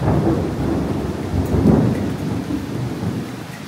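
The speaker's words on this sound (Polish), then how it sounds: "Przed chwilą jak pizło błyskawicą i grzmotło" Heavy rain pours steadily while a deep roll of thunder rumbles through after lightning, swelling and fading, loud and close with no voices, during a November rainstorm in Pattaya, Thailand.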